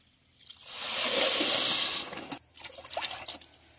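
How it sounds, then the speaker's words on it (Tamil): Water pours from a cup into a pot of sugar to make syrup for rice-flour gulab jamun: a steady close splashing pour lasting about a second and a half, followed by a few drips and light clinks. "தண்ணி 2 கப் ஊற்றிக்கலாம்."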